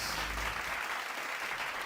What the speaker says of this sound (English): Please welcome them with a virtual round of applause.